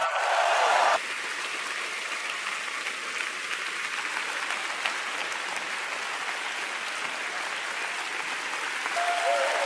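A large church congregation in Singapore applauds steadily and loudly throughout, a dense unbroken wash of clapping with no distinct shouts standing out.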